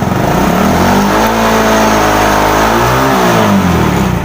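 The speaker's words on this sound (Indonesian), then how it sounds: "Kita coba gas, kita blayer gasnya ya" A car engine revved hard as the throttle is blipped, loud and close, rising and falling in pitch through a couple of surges over a steady idle rumble, with no voices.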